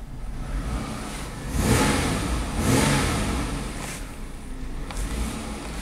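A car engine runs rough with an uneven, loping idle, swelling in two broad surges before settling back to a steady, unsteady rumble, close by with no talking.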